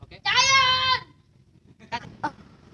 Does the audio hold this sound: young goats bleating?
yes